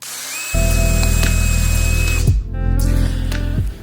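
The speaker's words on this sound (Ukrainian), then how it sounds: "У нас ясен, в нього не дуже покрутиш на халку, тому, мабуть, буду сверлити." A power drill bores into ash wood for a screw, a loud close whine that holds steady, cuts out briefly, then spins up again at a slightly different pitch, with no voices.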